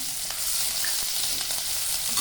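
Sliced onion frying in hot oil with mustard seeds and crushed garlic, a dense steady sizzle with small crackles and pops throughout, close and even, with no voices.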